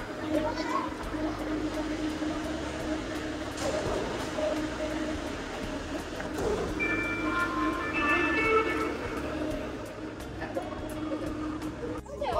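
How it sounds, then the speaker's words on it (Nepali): A train pulls into a station in Paris, a steady rolling rumble with rising metallic brake squeals near the end, while people talk over it. "आयो चुचु ट्रेन आयो आयो आयो आयो"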